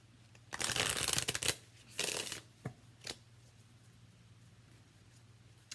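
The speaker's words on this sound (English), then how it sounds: "I'm going to shuffle a little more here." Tarot cards shuffled close by in a few quick riffling bursts, the longest first, then shorter flicks and taps fading into near silence, with no talk.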